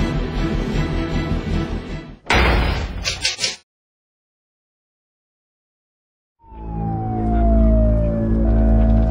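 An ambulance siren wails loudly after a door slam and a stretch of silence, its pitch sweeping across a close, strong vehicle rumble.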